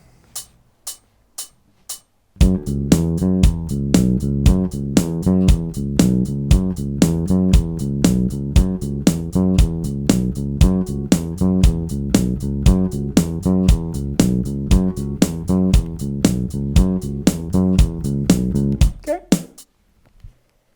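The original recording begins with a few sharp drum hits. The steady bass line and beat then come in and run loud and even for about sixteen seconds before stopping.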